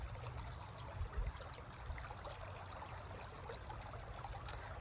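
A forest stream trickles and babbles steadily, a soft continuous flow with occasional low bumps.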